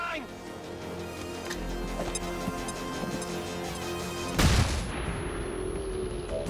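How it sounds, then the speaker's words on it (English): A flashbang grenade detonates in XCOM 2 Long War of the Chosen as one sharp, loud burst in the latter part of the clip, after game music and ticking effects and a voice talking over it. "let's just use Flashbang here"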